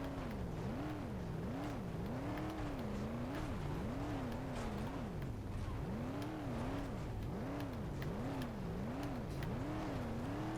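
A small rock crawler in BeamNG.Drive grinds over rocks, its engine droning steadily with a pitch that swells and dips in repeated waves as the throttle rises and falls, loud and close throughout.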